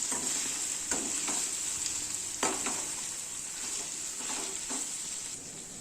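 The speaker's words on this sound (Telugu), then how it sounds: "అల్లం వెల్లుల్లి పేస్ట్ అలా ఆయిల్లో వేయండి" Ginger garlic paste frying in oil for a chicken fry makes a steady, fairly quiet sizzle, with a few scattered spatula scrapes and taps over it and no one speaking.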